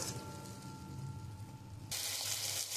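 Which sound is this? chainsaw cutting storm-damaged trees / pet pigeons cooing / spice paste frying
spice paste frying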